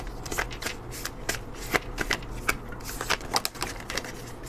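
Tarot cards are shuffled near and quietly, a run of crisp riffling bursts and soft slaps in an uneven rhythm with no voice over them.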